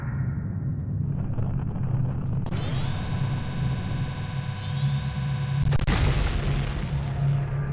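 A bomb-like item detonates in Majora's Mask, a loud booming blast with rumbling tail, then a second sharp explosion crackling out over a continuous game background hum.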